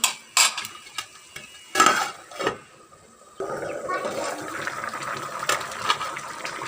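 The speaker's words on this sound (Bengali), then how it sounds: "একটু নেড়ে নিচ্ছি" Silver carp head and tail being stirred with milk in a pan: a few sharp scrapes and clatters of a utensil, then a steady bubbling sizzle with more stirring scrapes as the cooking continues.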